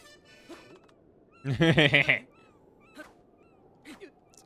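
A bird in the video game Breath of the Wild sings in short chirps and one louder warbling phrase, over a quiet ambient background with a faint voice.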